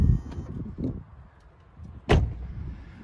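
A Toyota Previa minivan's sliding door rolls and shuts with a solid thump, followed by a brief quiet pause and a second firm clunk.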